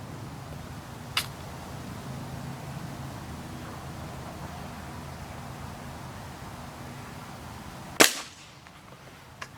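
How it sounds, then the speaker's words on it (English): A Benjamin Trail NP2 Nitro Piston air rifle fires one sharp, loud crack at close range over steady background hiss, with a fainter snap a few seconds earlier. "there's our 5 yard shot."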